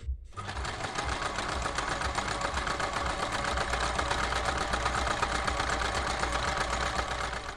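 A household sewing machine runs a reinforced straight stitch, a fast steady mechanical whirring and rattling hum that starts abruptly and continues evenly, close and alone.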